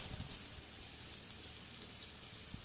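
Ginger paste and garlic paste sizzling in a frying pan for a soybean dish cooked with goat fat, a steady soft crackle with brief louder pops, no talk.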